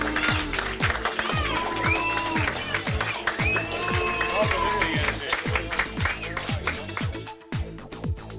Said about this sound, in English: Some are booing, some are cheering.